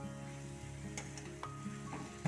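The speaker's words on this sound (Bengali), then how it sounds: "এবার এই সবজি আর মশলাগুলোকে ভালোভাবে মিশিয়ে নিচ্ছি।" Fried vegetables and spices are stirred together in a pan for veg dal, producing a soft steady sizzle with occasional light scrapes and taps of a spoon, fairly quiet and close.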